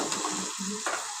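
Red chili powder and turmeric sizzling in hot oil with tomato masala for a fresh green pea curry, a close continuous fry with brief scrapes of stirring.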